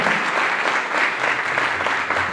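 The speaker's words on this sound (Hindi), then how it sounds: "तालियां बजाएं" A church congregation claps together in a full, even burst of applause that holds steady throughout.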